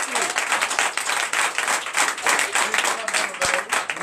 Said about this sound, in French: Donnez de vive acclamation.